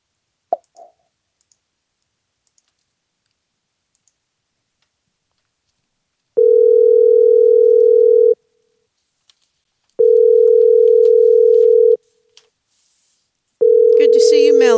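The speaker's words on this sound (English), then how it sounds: "Let me try this phone number" A telephone gives a few faint clicks while a number is dialed, then after a long silence three long, loud steady tones sound, each about two seconds long with gaps between them, like a busy or dial signal.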